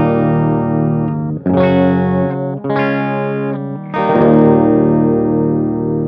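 Electric guitar chords played through an H&K TubeMeister Deluxe 40 tube amp, distorted and loud, with several sustained strummed chords changing in close succession and ringing out, no talking.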